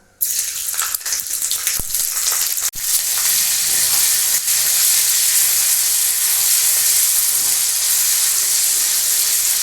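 Ginger dropped into hot oil and reddened caramelized sugar while cooking cauliflower and potato dum, giving a sudden loud hiss that settles into steady, close sizzling with a few stirring scrapes.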